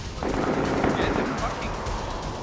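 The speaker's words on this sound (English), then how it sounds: "Dude, whose shots are those?" Rapid gunfire in the survival shooter DayZ, a dense clatter of shots crackling steadily for a couple of seconds with a voice talking over it.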